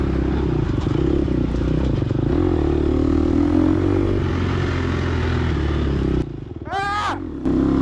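Dirt bike engine in a harescramble race in a racing video game, a loud continuous droning roar that briefly drops out near the end before a rising revving whine.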